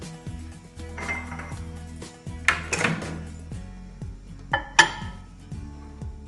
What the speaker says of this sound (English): Now placing this glass of water on the rotating table for reheating.